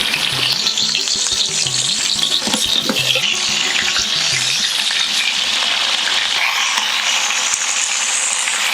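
Onion and green chilies fry in a pan for Bogura-style alu ghati, a steady close sizzle with occasional stirring scrapes running throughout.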